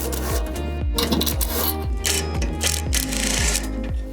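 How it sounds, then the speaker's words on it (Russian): Bolts on a garden wheelbarrow are unscrewed with a busy, grinding mechanical whir and repeated ratcheting clicks, loud and continuous and close up. "Открутим болты."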